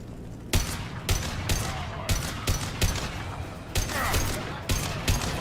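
Repeated gunfire rattles through a street battle in Mass Effect 2, sharp cracks and bursts at irregular intervals, some close and loud, with a hissing sweep in between and no talking.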